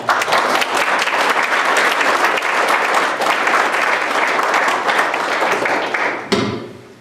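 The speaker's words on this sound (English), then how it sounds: "Let's give them a round of applause." Loud, sustained applause from a large crowd at a Pearl Harbor remembrance ceremony fills the room, then cuts off abruptly near the end.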